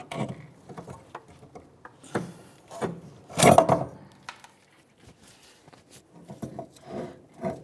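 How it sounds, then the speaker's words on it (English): Emergency brake cable on a 2003-2007 Honda Accord being pulled out of its mounting bracket near the rear caliper: scattered close metallic clicks and knocks, with one louder rattling clunk midway, no talking. "then we can pull the cable out of its mounting bracket"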